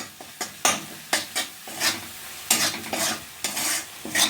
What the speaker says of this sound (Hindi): और अब इन मसालों को हम थोड़ा सा भून लेते हैं।